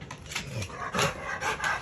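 A puppy plays nearby, breathing in quick, close bursts of panting with a few soft scuffling sounds over about two seconds.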